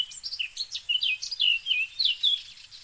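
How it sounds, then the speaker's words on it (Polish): Birds chirp and tweet in quick, high, repeated calls within the zombie survival video game Cursed Walking, close and steady with no talking. "Ale te ptaszki tutaj ćwierkają."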